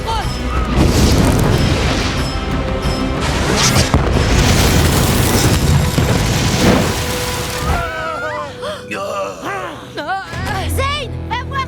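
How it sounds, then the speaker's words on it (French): Cannons fire and explosions boom in an animated cartoon battle, a dense run of loud blasts and rumbling for about eight seconds, then quieter effects and shouting voices as the barrage fades. "Les canons! Réduis cet endroit en cendres!"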